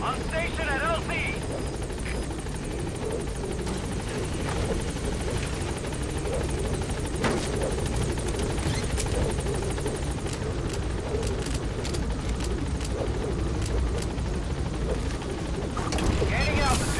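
Helicopter at a landing zone in the video game Metal Gear Solid V, its rotor thrum loud and continuous throughout with radio-style voices speaking over it.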